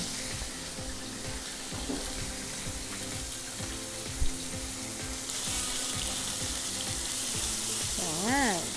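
Minced pork sizzles steadily in a pan over medium heat for a holy basil stir-fry, a continuous crackling fry with occasional scraping stirs and a brief clink, no voices.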